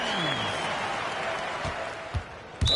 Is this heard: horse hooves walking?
no